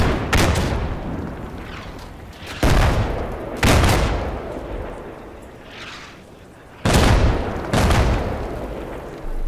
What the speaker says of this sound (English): I call in additional artillery on known enemy positions, resulting in a significant impact.